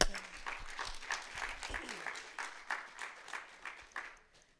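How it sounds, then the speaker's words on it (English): Hand clapping from a church ministry congregation, a modest burst of applause heard fairly faintly at a distance that tapers off toward the end. "Let's give Phyllis another hand clap"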